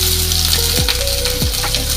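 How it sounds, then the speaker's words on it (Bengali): Sliced onions fry close up in hot oil with sugar and whole garam masala, a dense, steady sizzle with a few sharp spatters and clinks of a utensil, no speech. "এবার ভাজছি।"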